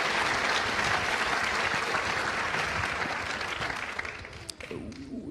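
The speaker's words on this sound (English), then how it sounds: "Give him a big round of applause," Sustained applause from a crowd, loud and steady, thinning out toward the end with a few scattered claps.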